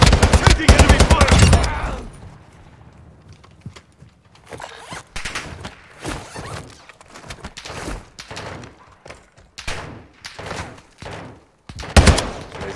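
Rapid automatic gunfire from enemies in Call of Duty Warzone, loud dense bursts at the start, then scattered shots and impacts continuing at lower level amid game noise.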